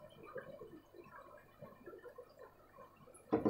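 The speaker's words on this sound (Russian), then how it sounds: "Аккуратненько просто берем. Из баночки наливаем." Vinegar eel culture poured from a jar onto gauze makes a quiet liquid sound, with a louder, brief splash of pouring near the very end.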